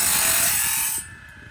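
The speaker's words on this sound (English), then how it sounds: "You can kind of hear from far away how it's grinding." Grinding on a sawmill blade during sharpening for a Woodland Mills HM130 mill, a steady broadband rasp that runs strongly for about a second, then drops off sharply, heard from some distance.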